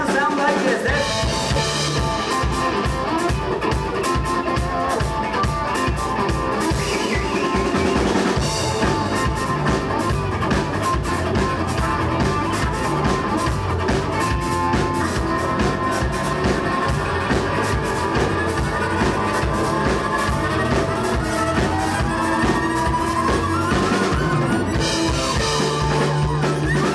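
Bowed fiddle playing with a live country band in a saloon, a dense, continuous full-band sound with steady rhythm running throughout at close, loud level.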